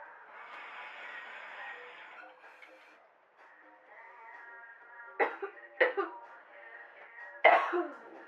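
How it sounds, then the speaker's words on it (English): Several sharp coughs break out near the end, three distinct bursts over a quiet, muffled background. "Sorry, I did a cough."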